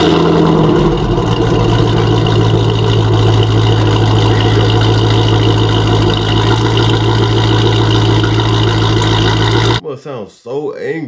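A Jeep Trackhawk's engine fires up and settles into a loud, rumbling idle that holds steady for most of the stretch before a short burst of talking at the end.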